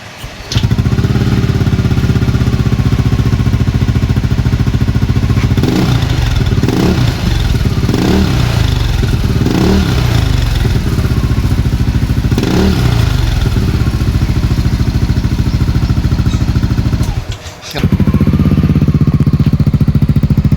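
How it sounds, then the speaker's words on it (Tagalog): A Yamaha Aerox V1 scooter fitted with a TRC stainless power pipe exhaust and silencer runs loud and close, a steady raspy drone with several rising revs, dipping briefly near the end before picking back up. "naikabit na natin yung TRC pipe. Ngayon naman itatry natin"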